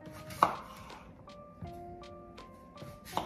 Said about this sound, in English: Let's chop up our fruit.